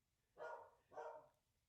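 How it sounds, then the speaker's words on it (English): Two separate barks from a dog indoors, moderately close but quiet, spaced about half a second apart against a near-silent background. "Don't bark like a dog, like my dog is doing right now."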